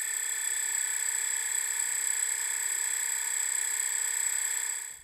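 A high, steady drone electric motor whine with a faint wavering pulse from a sinusoidal throttle varying 75% each rotation, held constant for a few seconds before cutting off at the end.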